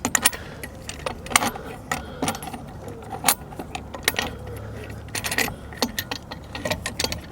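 Metal security lock bar for a caravan set down behind the wheel, giving repeated sharp metallic clinks and rattles across the clip at close range, with no talk.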